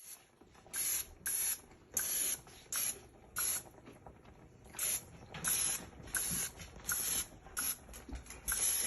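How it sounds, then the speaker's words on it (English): Butter-flavor Pam cooking spray is sprayed over seafood in a series of short, close, hissing bursts with brief pauses between, fairly quiet overall. "Sprayed some butter Pam butter flavor on there. It'll help brown them."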